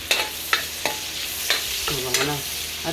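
Bagoong shrimp paste sautés in a pan for bangus binagoongan, a soft sizzle broken by repeated sharp scrapes and clinks of a spoon stirring against the pan, close and rhythmic, with no speech.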